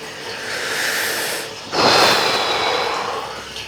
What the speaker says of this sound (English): apologies for the washing machine noise